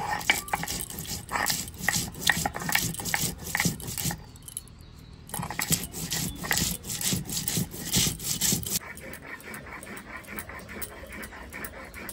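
Mustard seeds and green chilies are ground into a paste on a grinding stone, with a close, steady rasping scrape in back-and-forth strokes that pauses briefly midway and then softens toward the end.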